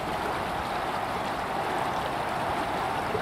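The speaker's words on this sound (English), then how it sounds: "Look at that waterfall there." A waterfall and stream in the Lake District, a constant loud rushing roar of flowing water with no breaks.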